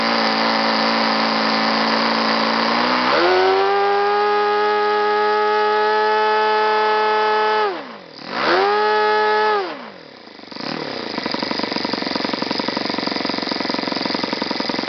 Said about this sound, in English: First, we'll manually run the engine up and down to clear it out